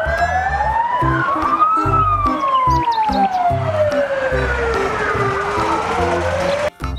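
A loud wailing siren from a toy fire truck sweeping up and down in pitch, close by, with an electronic toy-like tone and a brief dropout near the end.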